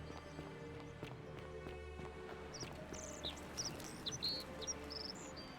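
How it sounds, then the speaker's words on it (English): Birds chirp in short scattered high bursts in the video game The Forgotten City, faint over an ambient game background with soft footsteps and low tones. "I hear birds, but I never see them."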